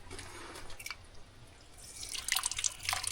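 Water dripping and trickling at a mountain water catchment in rural Jamaica, faint scattered drips over a low hum, growing busier and splashier toward the end, with no talk.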